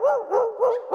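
A human voice imitates a toy poodle barking, producing four quick, high, yappy barks in a tight rhythm, close and clear.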